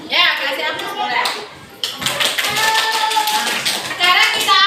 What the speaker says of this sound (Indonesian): Sekarang kita kasih aplaus semua untuk kita yang sudah berani berdiskusi. Tepuk tangan.